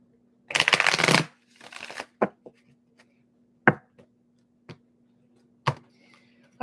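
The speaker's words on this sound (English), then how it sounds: "One more shuffle for Capricorn." Tarot cards are shuffled in a quiet room: a dense riffling burst, a softer second riffle, then several sharp isolated taps as cards are squared and set down.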